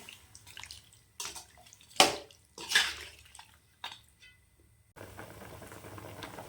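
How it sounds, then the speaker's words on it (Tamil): Water is poured into mutton gravy in a pan, heard as several short splashing pours separated by pauses, followed by a softer steady bubbling. "இப்போ நம்ம தண்ணி சேர்த்துக்கலாம்"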